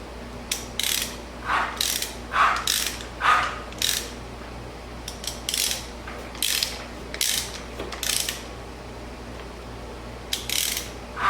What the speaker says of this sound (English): I can hear the starter